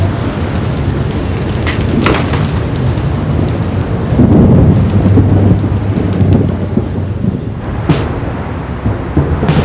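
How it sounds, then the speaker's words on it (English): Heavy rain pours steadily in a thunderstorm, loud and close, with rumbling thunder swelling through the middle and a sharp crack near the end. "And as the storm got worse, poor Roger got soaked through to his skin"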